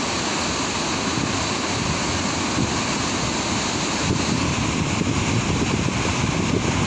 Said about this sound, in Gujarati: આ જે પાણીના જે ધોધ પડવાનો અવાજ છે ને એ સાંભળો